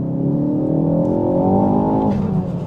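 Mk4 Ford Focus ST engine pulling hard in second gear, loud and close, with a rising, steady revving drone that climbs for about two seconds before easing off.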